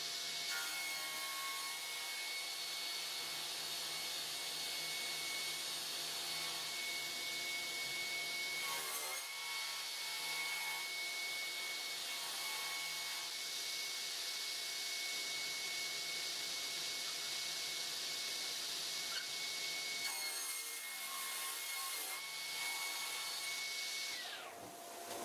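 A sliding table saw rips timber to width with a loud, continuous whine and cutting roar, the tone shifting slightly as the board feeds through, with no voices.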